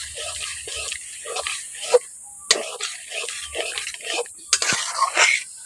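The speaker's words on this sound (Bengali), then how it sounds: "ওটা দিয়ে ভালো করে এখন মিশিয়ে নিচ্ছি।" Spoon stirring boiled chickpeas with their cooking water into fried potatoes in a pan for vegetarian chana masala: repeated soft scraping strokes in a steady rhythm, with a few sharper clinks of utensil against the pan.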